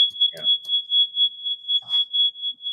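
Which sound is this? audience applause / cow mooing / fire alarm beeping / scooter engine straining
fire alarm beeping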